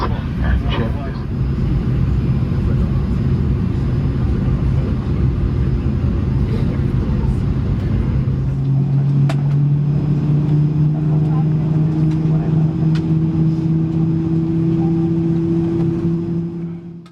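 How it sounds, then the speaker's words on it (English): Air Canada Airbus A330-300 jet engines spooling up during pushback from the gate, heard from inside the cabin as a steady roar with rising tones that settle into a sustained whine. "Pushing back from the gate now and starting up the engines"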